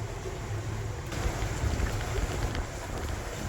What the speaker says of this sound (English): That wind has switched around to the north.